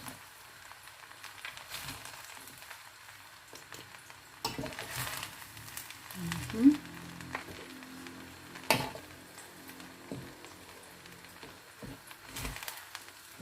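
Pancit sotanghon and canton noodles with pork being stirred in a wok, quiet scraping and soft sizzling with a few sharper clanks and knocks scattered throughout.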